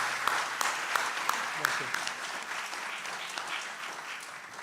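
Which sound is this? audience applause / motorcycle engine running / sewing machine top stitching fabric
audience applause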